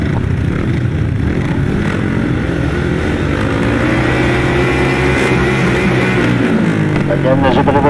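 Grasstrack racing motorcycles rev loudly and continuously on the start line at the 2019 Frittenden Flyer meeting, a dense, droning engine roar with a public-address commentator talking over it.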